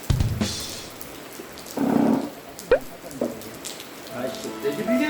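Rain falls steadily outdoors as a soft, continuous hiss, with a few knocks and clatters from nearby and someone speaking over it.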